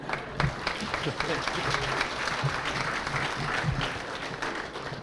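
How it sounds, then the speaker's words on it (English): Audience applause at a college building groundbreaking ceremony, a steady wash of clapping lasting several seconds with occasional voices and low bumps mixed in, fairly close and moderately loud. "let's give him a round of applause."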